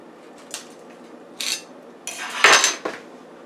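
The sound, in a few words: pork tenderloin being turned over in air fryer oven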